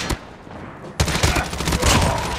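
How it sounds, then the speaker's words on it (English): Rapid bursts of gunfire ring out in Call of Duty Mobile, a quieter shot or two first, then a louder, denser volley of automatic fire. "I'm hearing gunshots over here"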